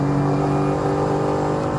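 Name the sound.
Mercedes AMG GT4 race car engine at full throttle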